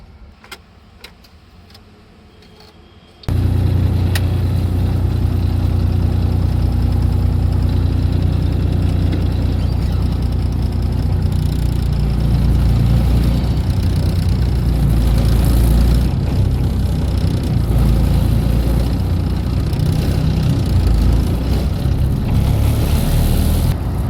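Manual-transmission truck engine running while driving on a highway, a heavy, steady low rumble that starts abruptly after a quiet opening and continues loud and close throughout.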